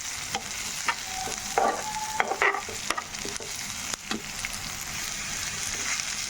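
Curry leaves fry in hot oil with ginger garlic paste, giving a soft, continuous sizzle under scattered scraping and stirring strokes, with no voices.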